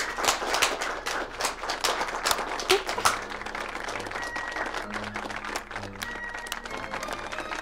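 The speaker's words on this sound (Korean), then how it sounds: "다시 한번 큰 박수 부탁드리겠습니다." A wedding ceremony crowd claps after the ring exchange, a burst of dense applause near the start that thins into scattered claps, with some voices in the background.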